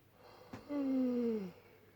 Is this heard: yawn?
yes